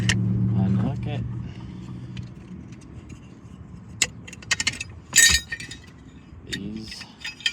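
Metal hooks, chains and wheel chocks clink and jangle while the spare tire jack tools of a 2019 Chevrolet Silverado 3500 are unhooked, with scattered sharp clanks over a low rumble and quiet voices talking.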